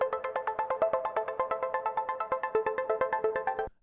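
A mono synth arpeggio with a short portamento glide plays rapid, evenly spaced plucky notes in a bright repeating pattern, alone and fairly loud, stopping abruptly at the end.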